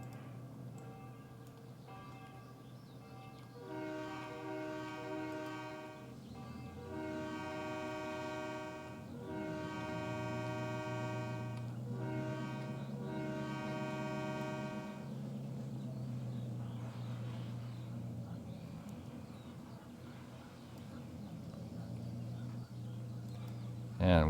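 A train in a video game rolls along with a sustained horn sounding in steady blasts over a low rumble, then the horn fades while the engine drones on.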